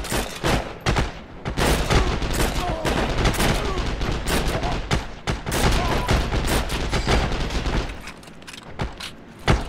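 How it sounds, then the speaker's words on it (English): Rapid, dense gunfire from the Heroes & Generals war game, with bursts of automatic weapons and overlapping shots crackling almost continuously and loudly, easing slightly near the end. "That guy's shooting at me."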